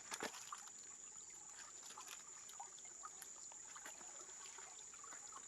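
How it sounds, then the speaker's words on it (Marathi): A small mountain stream, fed by trickles coming down the hills in a rainy area, runs softly and steadily, with faint splashes and a continuous high insect whine over it. "छोटे छोटे झरे मिळून असा एक ओढा तयार होतो"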